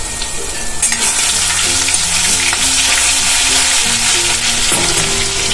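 Cumin and ginger-chili paste hitting hot oil for a farali shuki bhaji, a loud, steady sizzle close up under a hum of background tones, with no one talking.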